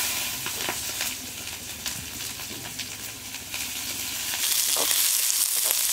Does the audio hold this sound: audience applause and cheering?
no